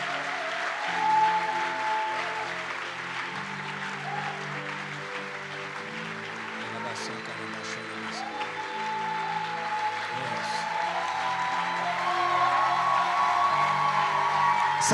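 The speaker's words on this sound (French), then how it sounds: "acclame pour celui qui t'a appelé et t'a choisi." A church congregation at a French-language worship service applauds and cheers loudly and steadily, with whoops and shouts rising over sustained clapping, and singing or music tones running underneath throughout.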